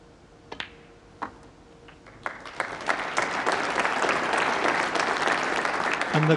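A snooker crowd at the 2015 Champion of Champions applauds a frame-winning break in Mark Selby vs Stephen Maguire, starting as a few sharp separate claps and swelling into sustained, dense applause.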